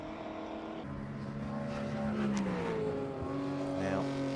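A 1960s V8-engined 5-litre Ford Mustang racing car with other period race cars at Snetterton circuit, engines droning and shifting pitch as they pass, under a commentator talking throughout.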